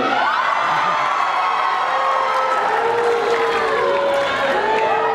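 A crowd at the Knott's Scary Farm 2013 haunt announcement event boos, making a loud, continuous roar of massed voices and shouts.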